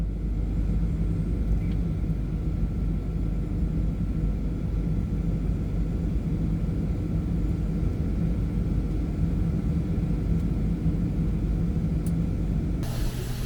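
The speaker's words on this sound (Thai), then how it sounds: "ซึ่งตอนนี้เครื่องบินก็กำลังลดระดับลง" Inside a Malaysia Airlines Boeing 737-8 descending toward Suvarnabhumi airport, a steady, dense cabin rumble and engine roar holds evenly throughout with no voices.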